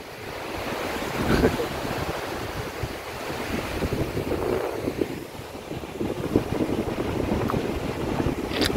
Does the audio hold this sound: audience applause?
no